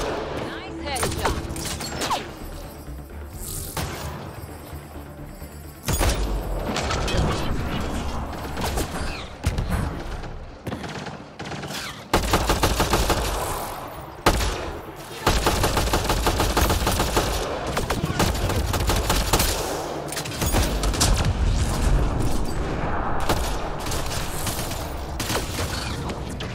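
Gunfire in the video game Mass Effect Andromeda: dense, rapid automatic bursts and booming shots through most of the stretch, with brief lulls, game dialogue and mechanical clatter mixed in.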